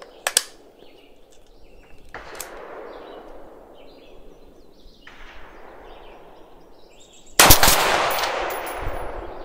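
Four gunshots are fired outdoors with Hornady ammunition, spaced a few seconds apart. Each is a sharp crack followed by a lingering decaying echo, and the last report is the loudest.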